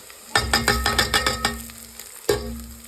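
Onion frying in a pan for a village-style baingan bharta as chillies are added: a quick run of rhythmic sizzling, stirring bursts, then a pause and one more sharp burst.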